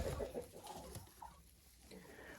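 Young hens cluck in a coop at a dacha, a few short close clucks at the start followed by quieter scattered fowl sounds against low background.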